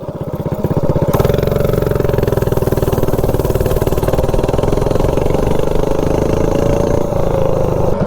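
A minibike engine fitted with a five-foot intake pulls hard and loud, its steady drone rising as it accelerates after a sharp onset, holding a strong continuous roar close by with no talk.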